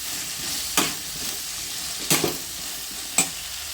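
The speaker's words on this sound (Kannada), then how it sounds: "ಈಗ ಚೆನ್ನಾಗಿ 1-2 ನಿಮಿಷ ಇದೆಲ್ಲ ಮಿಕ್ಸ್ ಆಗೋ ಹಾಗೆ ಹುರ್ತಾಯಿತು." Cauliflower masala being stirred and fried in a pan, with a steady low sizzle broken by three sharp scraping strokes of the spoon against the pan, close and with no talking.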